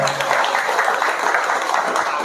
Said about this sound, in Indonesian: Terima kasih, tepuk tangan untuk kita semuanya.